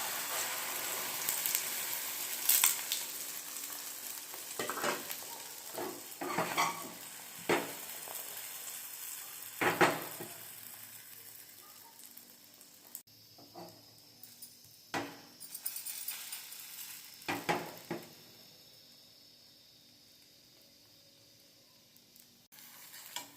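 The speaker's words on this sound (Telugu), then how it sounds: "ఆయిల్ హీట్ వేసినాక ఆమ్లెట్ వేసుకుందాం మనం." An omelette fries in hot oil in a pan, giving a soft, steady sizzle with scattered crackles and brief scraping or stirring knocks, fairly quiet and close, with no talking.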